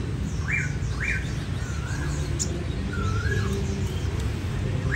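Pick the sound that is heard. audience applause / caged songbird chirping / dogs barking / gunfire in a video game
caged songbird chirping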